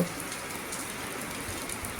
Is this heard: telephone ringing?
no